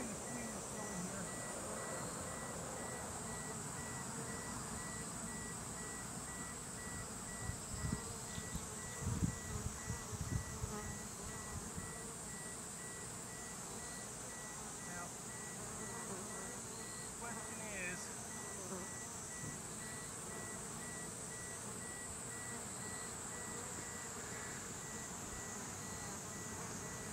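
A swarm of Japanese cerana honeybees buzzes steadily around their hive, a constant droning hum throughout with a short stretch of handling knocks and rustling partway in.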